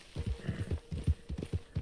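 Horse hooves clip-clopping in Red Dead Redemption 2, a quick, uneven run of close hoofbeats at moderate volume with no voices.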